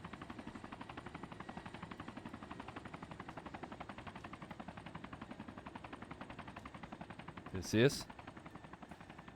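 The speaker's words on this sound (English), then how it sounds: "a Russian helicopter" Steady rapid rotor thumping of a Russian helicopter in the game Arma 2 runs throughout, with a brief sharp burst near the end and a short spoken line over it.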